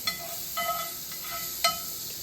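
Butter sizzles faintly in a hot pan while French toast cooks, a steady soft hiss with a few small crackles and utensil clicks, heard close and without talk.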